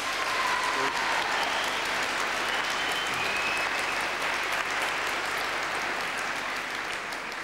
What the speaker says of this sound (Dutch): En ik hoop dat u ook graag applaus krijgt